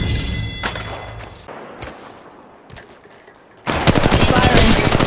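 Gunfire in the mobile video game Apex Legends Mobile: scattered single shots and thuds, then a loud sustained burst of rapid automatic fire in the final second, with game voice callouts mixed in.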